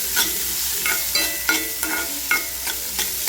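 Onions browning in a pan for dahi bhindi, fried and stirred with a steady sizzle broken by about six rhythmic scraping strokes of a spoon, close and moderately loud, no voices.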